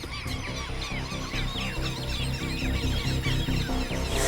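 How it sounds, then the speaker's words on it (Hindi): Many birds call loudly and continuously, a dense overlapping chorus of honking, goose-like cries over a steady low background, close and busy throughout. "ये पक्षियों की आवाज सुन रहे हैं आप?"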